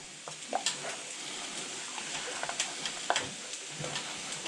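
A wooden spoon stirs a frying breakfast of tomatoes, mushrooms and pepper in a pan, giving soft scrapes and light knocks over a low, constant sizzle, fairly quiet and without speech.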